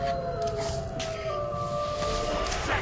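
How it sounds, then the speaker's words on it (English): Hellhound round start sound effect from an early Call of Duty Black Ops zombies game build: wavering siren-like tonal howls sustained over a dense, rumbling noise bed, loud and continuous, with no speech. "an early or just a PS3 exclusive Hellhound round beginning noise"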